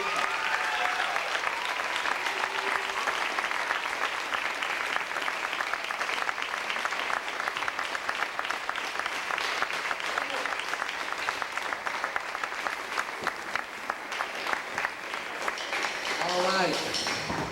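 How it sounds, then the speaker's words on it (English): Audience applause for Miss Berger, a sustained dense patter of clapping that carries on for the full length, with a few voices and whoops rising over it near the end. "Let's give Miss Berger a round of applause and show her our appreciation"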